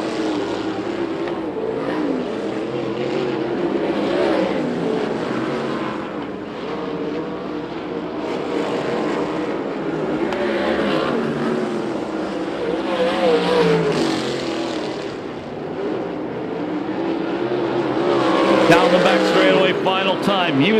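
Senior sprint cars race at Perris Auto Speedway, their engines roaring and droning continuously at a distance and rising near the end, with a voice talking over the track noise.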